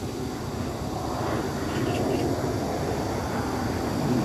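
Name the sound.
fighter jet flying overhead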